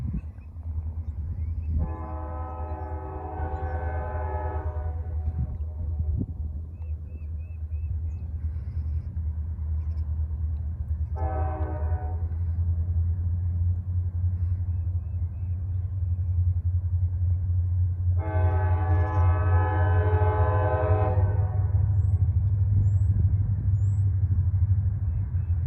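GE and EMD freight locomotives working together, notching up to climb a hill on a cold, sunny day: a heavy, building engine rumble under three long horn blasts, the last the loudest.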